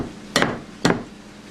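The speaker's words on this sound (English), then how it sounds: "Then we'll again strike the knuckle," Two sharp knocks, half a second apart, as a tool strikes a crab's knuckle to crack the shell, close and clear against quiet room tone.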